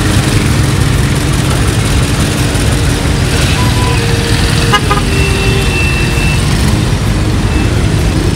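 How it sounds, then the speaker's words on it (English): Dense road traffic on the Lekki Ekpe Expressway in Lagos, Nigeria: a steady roar of idling and rolling cars and heavy trucks, with several short car horn toots sounding around the middle of the stretch. "There's a lot of traffic on this Lekki Ekpe Expressway."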